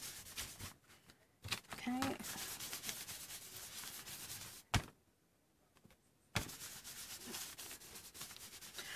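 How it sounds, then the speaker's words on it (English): A baby wipe rubs paint into paper in a mixed-media project, giving soft close scrubbing and swishing strokes with a brief quiet gap partway through. "So I'm going to start rubbing some of this in."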